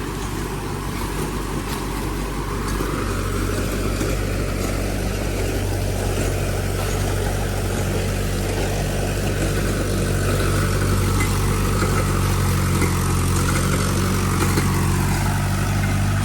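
A tractor drives a rotavator, its engine droning steadily and loudly for the whole stretch, with a low rumble and a mechanical churn that never lets up.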